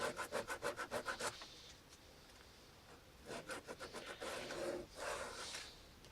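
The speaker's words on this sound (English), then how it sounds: "Sand this" Sandpaper rubbed back and forth over the weld of a leather sheath, quick rhythmic scratchy strokes up close, then a pause followed by slower, longer rasping passes.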